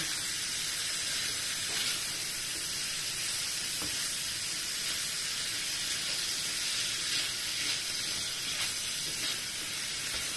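Cooking oil sizzles steadily in a pan heating for crepes, a continuous hissing fry at an even level throughout with no speech.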